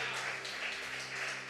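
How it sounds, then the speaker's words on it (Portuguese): Church congregation applauding in praise during a Portuguese-language sermon, a soft, even wash of clapping from many hands, fairly distant and sustained with a faint hum beneath. "Dê uma salva de palmas pela palavra do Senhor Jesus."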